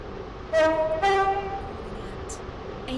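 Simulated train in the Roblox game Stepford County Railway, a five-coach Class 44 unit: two loud, sustained horn blasts stand over a steady rolling hum, followed by a quieter short tone near the end.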